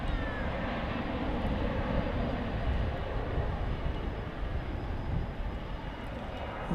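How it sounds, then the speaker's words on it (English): A steady, fairly distant roar from a Cessna Grand Caravan turboprop that has just landed at Dallas–Fort Worth, a broad engine rumble that holds at an even level the whole time. "It's a Cessna Grand Caravan coming in from Tyler, Texas. Just landed a couple minutes ago."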